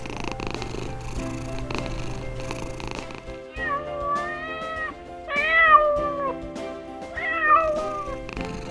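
A domestic cat meows several times in drawn-out, rising-and-falling calls, close and clear, with a softer purring drone beneath before the meows begin.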